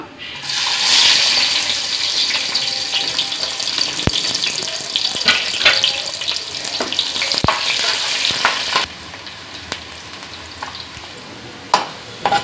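Onions dropped into hot oil for bagara rice burst into a loud, broad sizzle that hisses steadily close by, with a few sharp utensil knocks, then settles to a quieter frying hiss near the end.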